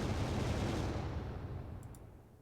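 Kinetic cannons firing in the Final Theory strategy game, a deep rumbling barrage of booms that fades away over a couple of seconds.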